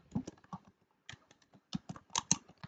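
Typing on a computer keyboard in a Gmail window, with irregular bursts of close, crisp key clicks separated by short pauses.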